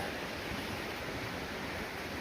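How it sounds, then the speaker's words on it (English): A river's water rushes in an even, broadband wash, steady and moderately loud, heard alone with no voices. "Look at this nice river."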